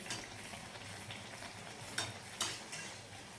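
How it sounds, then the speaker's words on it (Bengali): Banana malpua fry in oil over a low flame, a faint, steady sizzle close by with two brief brighter spatters as oil is spooned over them. "এটা একটু লো ফ্লেমে করতে হয়, তাহলে ভেতর পর্যন্ত বেশ ভালোভাবে ভাজা হবে।"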